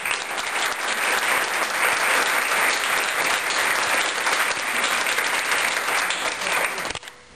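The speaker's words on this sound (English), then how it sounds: "a round of applause" Sustained round of applause from a seated audience at an annual scholarship luncheon, steady and full for about seven seconds before cutting off abruptly.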